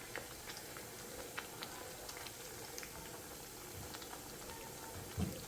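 Nippattu frying in oil on a low flame: a steady soft sizzling hiss with fine scattered bubbling pops, continuous and close, with a slightly louder clatter near the end.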